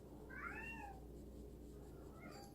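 A house cat gives a single rising-then-falling meow near the start, fairly close and clear, followed by a fainter short chirp near the end over a low steady room hum.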